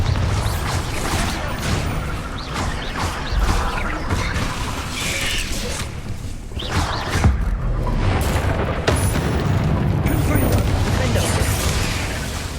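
Spell explosions from Bombarda and Confringo in Hogwarts Legacy, fought in a mine, burst repeatedly amid dense, continuous game combat noise with booms and crashes, while a voice calls out spell names over the din.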